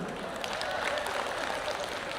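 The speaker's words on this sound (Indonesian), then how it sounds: "Ibu-ibu kok tepuk tangan?" Steady, dense clapping from women in an audience at an Islamic sermon, a continuous wash of hand claps heard at moderate distance throughout.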